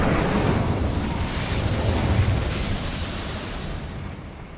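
A fiery Incendio spell bursts out in the Hogwarts Legacy video game, a loud roaring whoosh of flame with a rumbling low end that holds steady for several seconds and then slowly fades.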